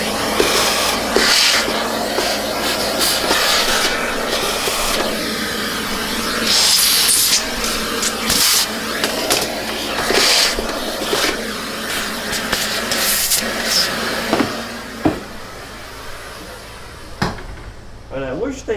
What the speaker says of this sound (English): let's go ahead and vacuum the vacuum